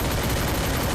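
Dense, loud bursts of gunfire crackle continuously through a brief moment, like a rapid volley of shots in a violent game-show confrontation.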